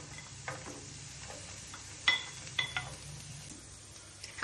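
Green beans tipped into a pan of chopped carrots and stirred, with soft sizzling, scattered clinks and scrapes of a utensil against the pan, and a sharper clatter near the end.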